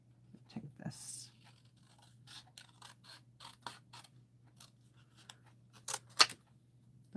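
Scissors snip and cut through craft paper close by, in a series of short crisp cuts and rustles, with a faint low hum underneath and occasional quiet speech.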